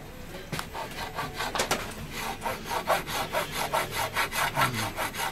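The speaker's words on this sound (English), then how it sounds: "I'm cutting the nut slot." A small saw cutting a nut slot on a walnut Telecaster guitar, with quick rhythmic rasping strokes back and forth, close up and steady, about ten strokes in a few seconds.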